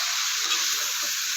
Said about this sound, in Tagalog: So ayan guys, lagyan na natin ang ating broccoli